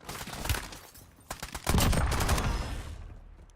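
Rapid bursts of automatic gunfire from a shooter video game, several clustered volleys with a dense sustained barrage near the end, loud and close with no talk over it.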